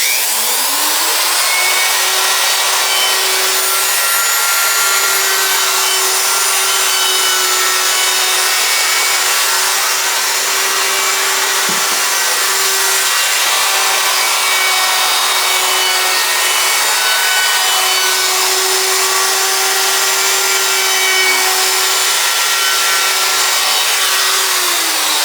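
A CNC router rounding over the edges of a solid walnut Telecaster guitar body with an eighth-inch roundover, a loud continuous whine with a steady tone, briefly dipping once midway, under a constant rushing cut.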